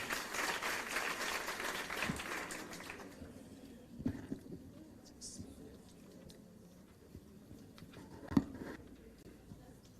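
Applause from a debate audience at a university debate fades after about two seconds, leaving a quieter room with scattered claps and a few sharp knocks.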